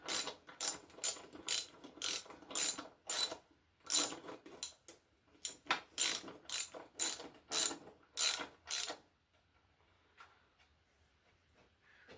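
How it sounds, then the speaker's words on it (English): A hand ratchet snugs up engine sump bolts, producing quick bursts of loud, close clicking pawl strokes in a steady rhythm for about nine seconds, then falling quiet. "I've got all the bolts in. I'm just going to give them a little nip up."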